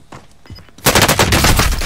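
Rapid automatic gunfire in a shooter video game breaks out suddenly after a quiet moment, a loud continuous burst of close shots that fills the rest of the moment.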